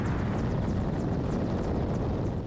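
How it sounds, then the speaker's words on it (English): A pair of Ukrainian military helicopters flies on an assault near Bakhmut, their engines and rotors a loud, steady roar with buffeting wind noise and no speech. "A pair of Ukrainian helicopters on an assault against Russian forces close to Bakhmut."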